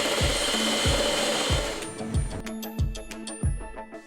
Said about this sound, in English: I'm going to start by getting these egg whites into stiff peaks by just giving it a whisk like this